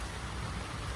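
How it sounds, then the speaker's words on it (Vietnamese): Steady rain falls continuously, a dense, even hiss of drops on surfaces with no break or other sounds standing out. "Còn thấy trời mưa."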